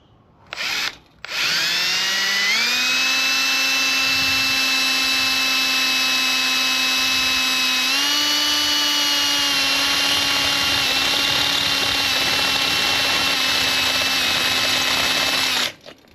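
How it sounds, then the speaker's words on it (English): A power drill bores holes for fitting a 4-speed shifter to a Nova, with a short burst first and then one long, loud, steady whine as the motor holds speed, briefly shifting pitch midway before stopping. "I'm just gonna go ahead and drill those holes real quick."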